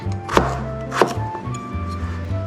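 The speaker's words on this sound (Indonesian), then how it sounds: "supaya cepat matangnya nih saya iris-iris gini aja" A knife slicing vegetables on a board for homemade frozen baby food, two sharp cuts about half a second apart, then a low soft hum and some faint movement, with no speech.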